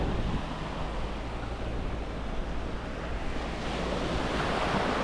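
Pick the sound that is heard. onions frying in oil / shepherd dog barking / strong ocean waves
strong ocean waves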